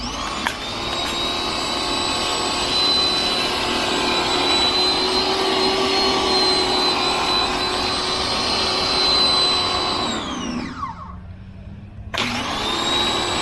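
A Ryobi 1900 PSI electric pressure washer runs with a steady, loud motor whine and hiss, then cuts off and winds down, falls silent for a moment and kicks back on.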